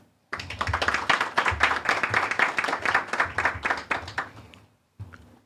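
An audience applauds staff at a media launch event for a student loan fund, a burst of brisk, dense clapping that rises, holds steady for about four seconds and cuts off, then a few stray claps follow.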